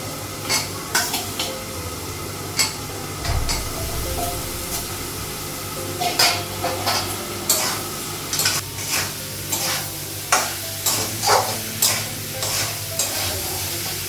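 Soybean chunks with turmeric sizzle loudly in a pan while a spatula scrapes and clatters in repeated bursts of stirring, close and prominent, with no speech.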